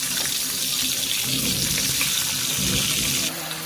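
Marinated katla fish slid into hot oil in a pan, giving a loud, steady hiss and sizzle of frying that runs unbroken throughout, dropping slightly near the end.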